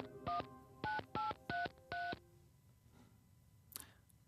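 Telephone keypad dialing tones before a call: five crisp touch-tone beeps in a quick uneven sequence, followed by quiet line hiss and a faint click.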